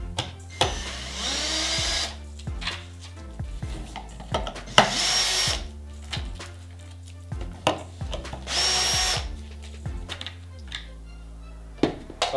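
Power drill backing screws out of a pre-drilled wooden joint made with a Wolfcraft Undercover Jig 4642 concealed-screw guide, loud whirring bursts of a few seconds each, repeated about four times with short pauses between.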